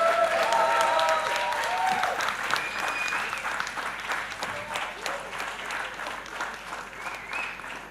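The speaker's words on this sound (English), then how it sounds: "congratulations, you can applaud him" Audience applause fills a hall at a hackathon finals during an innovation festival, steady dense clapping throughout with some voices and whoops mixed in, gradually easing but still going at the end.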